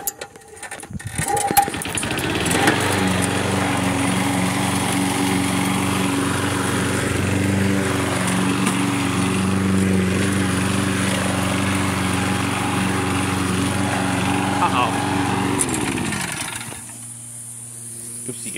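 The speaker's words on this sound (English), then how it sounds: "let's go ahead and restart the lawnmower here" A Toro lawn mower engine starts up and runs at a steady, loud drone with low harmonic hum for most of the stretch, then cuts off abruptly near the end, leaving quieter background.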